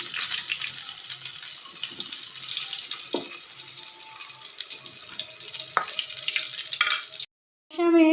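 Fish fry in hot oil in a pan with a steady, bright sizzle and crackle, broken by a few scraping clanks of a utensil. The frying stops abruptly near the end.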